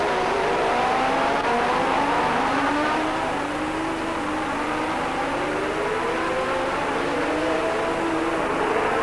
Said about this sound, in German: Die Autos wieder unten am Shorelane Drive, wo sie die höchste Geschwindigkeit erreichen, ungefähr 280 Kilometer pro Stunde.